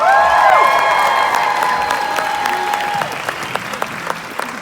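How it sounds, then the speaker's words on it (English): Warm audience applause greets a woman from the cosmetics industry as she is introduced at a business presentation, loud and dense at first, then thinning into scattered claps and fading after about three seconds. "Give her a warm round of applause."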